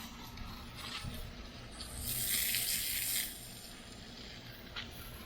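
A house wash hose sprays plain water in a steady hiss, swelling louder for about a second mid-way before dropping back, with a low pump hum running underneath and no talk.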